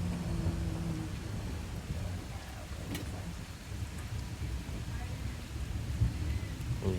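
Steady rain pours down during a severe thunderstorm with strong winds, a continuous hiss with a faint rumble of thunder underneath, and a person speaking quietly over it.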